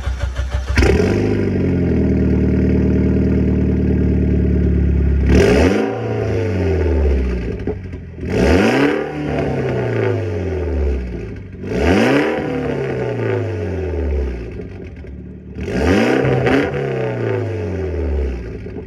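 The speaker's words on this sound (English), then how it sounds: "When I put on this exhaust, the different sounds of it. Let me give you guys a quick little startup." A Mitsubishi Evo X with an Invidia Q300 straight pipe exhaust fires up and idles loudly, then gives four sharp revs spaced a few seconds apart, each rising and falling back to a rumbling idle.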